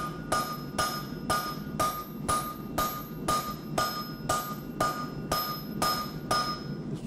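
Hot Damascus steel for a tomahawk is hammered on an anvil in a steady series of about a dozen sharp, ringing metallic blows, evenly spaced roughly half a second apart, close and loud with no talking.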